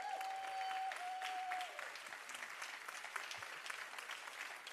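An audience claps steadily in a hall, a dense wash of applause, while a brief whistle-like tone rises over the first couple of seconds.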